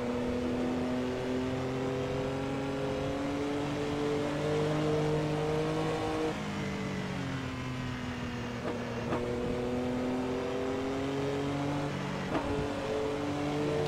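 Porsche 962 race car engine in Assetto Corsa, revving and pulling through gears with rising whines and shift drops, loud and continuous throughout.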